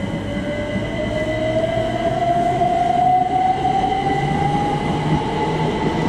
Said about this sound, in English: now departing is the C2C service from Shoeburyness to London Liverpool Street.